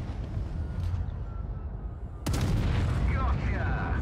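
A single heavy tank cannon blast in the mobile game World of Tanks Blitz, involving the FV215b tank, erupting loudly midway after a low engine rumble, followed by ringing game effects.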